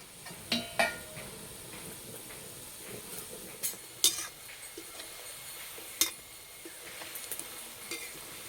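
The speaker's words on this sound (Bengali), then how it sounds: "ভাজার সময় খুব একটা বেশি জোরে জাল দেব না, আস্তে আস্তে জাল দেবো আর ভেজে নেব" Ripe jackfruit fritters frying gently in oil over low heat, stirred with a wooden stick, giving a soft steady sizzle with scattered clinks and scrapes against the pan, close by and without talk.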